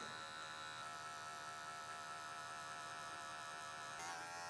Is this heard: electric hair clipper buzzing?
yes